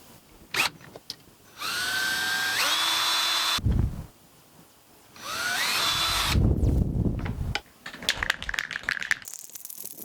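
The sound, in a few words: power drill drilling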